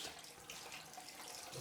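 A bathroom tap runs while a shaving brush handle is rinsed under it, a soft, steady splashing stream that is faint and unbroken.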